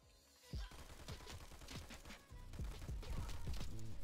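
Rapid gunfire from the video game Fallout 4, played with a hard mod pack: bursts of shots and thuds that build into a dense, continuous volley toward the end.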